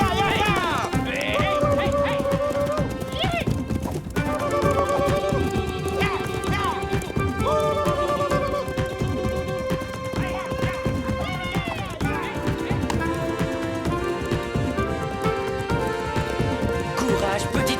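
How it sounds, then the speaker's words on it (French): A wild pony's hooves gallop at a steady beat alongside an occasional whinny, with busy orchestral music playing loudly throughout, in an animated cartoon. "Un poney sauvage! Capturons-le!"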